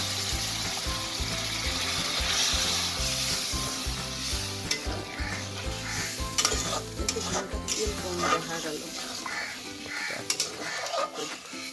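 Water goes into frying baim (eel fish) curry in a pan, giving a strong continuous sizzle, with a spoon stirring and scraping. The sizzling eases toward the end as the stirring continues in irregular clicks.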